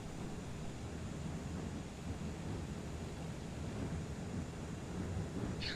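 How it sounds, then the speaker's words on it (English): Steady wind blows through a flight simulator game during a quiet moment, a continuous low rushing roar with gentle swells and no talk. "It's a bit windy."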